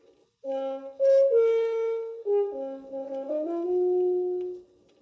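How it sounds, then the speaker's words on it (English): A simple tune played on a French horn, mellow sustained notes stepping down and then up, clear and alone. "The French horn, for example."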